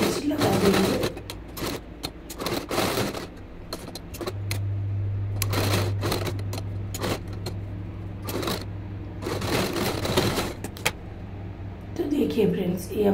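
A domestic sewing machine press-stitching a velvet doll's dress and bodice, sounding as quick mechanical rattling bursts that stop and start, with a steady motor hum in the middle and someone talking between runs.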